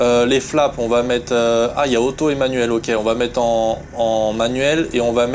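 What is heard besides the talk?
No everyday noise stands out behind the speech.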